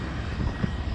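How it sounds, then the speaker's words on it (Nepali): Aircraft engine at the maintenance area of Hong Kong International Airport, a steady low roar with a broad rumbling drone throughout, fairly distant and unbroken. "ल प्लेनको सुरु हो अब"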